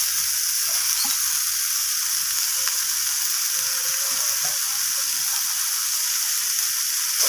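Greens sizzle and hiss in a hot pan, a steady crackling fry with occasional stirring scrapes, close and continuous.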